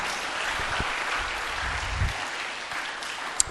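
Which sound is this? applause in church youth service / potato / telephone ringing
applause in church youth service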